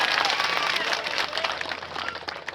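An audience applauds at a market yard chairman swearing-in ceremony, a dense, fairly loud burst of clapping from a crowd that runs the whole moment without a break.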